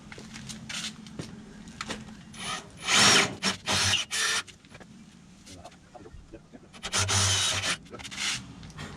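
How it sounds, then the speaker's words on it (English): Power drill boring a hole to mount Ironman scrub bars on a Dmax ute, short loud grinding bursts around the middle and again near the end, separated by quieter scraping and handling noise. "drill that all the way out"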